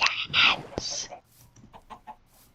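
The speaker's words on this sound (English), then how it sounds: "Chickens." In a video game, short bursts of chicken clucking up front, then softer scattered clucks trailing off, fairly close and clear.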